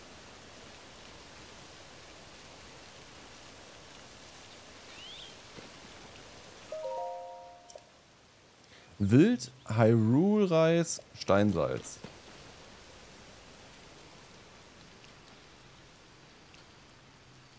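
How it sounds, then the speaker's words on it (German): Steady rain falls in Zelda: Tears of the Kingdom as a soft, constant hiss running under the game's sound effects, with someone talking over it in the middle. "der Regen hört aber nicht auf"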